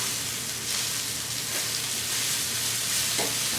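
Flour-coated breaded shrimp fry in a skillet on a heating element with a steady, close, dense sizzle and occasional crackles, and no talk over it.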